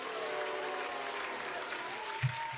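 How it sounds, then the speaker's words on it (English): Canned applause sound effect from a soundboard button, a continuous wash of crowd clapping and cheering heard for a few seconds, fairly loud with a brief thump near the end. "I don't know why they're applauding. I hit the wrong button."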